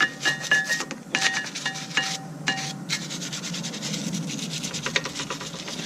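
A brush rubs and scrapes in fast repeated strokes over the front brake calipers of a Maserati GranTurismo during a wash-down. The scrubbing is close, rough and rhythmic, with brief pauses between bursts, and no one speaks.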